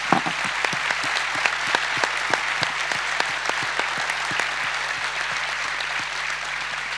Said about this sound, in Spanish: Yo también lo aplaudo.